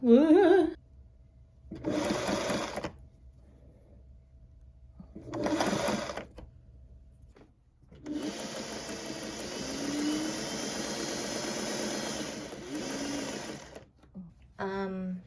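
A sewing machine stitches a yoke onto a knit top in short bursts: two brief runs, then a long continuous whirring stretch of stitching, close and clear, with a few brief spoken remarks between.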